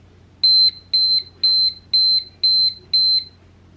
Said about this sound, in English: that's the little buzzer